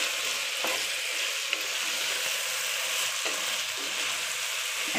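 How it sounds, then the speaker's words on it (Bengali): Fried rice with green chilies fries in a hot pan, giving a continuous bright sizzle and hiss, with occasional scrapes and clinks of stirring throughout. "নেড়ে সুন্দরভাবে একদম ভাজা ভাজা করে ফেলব"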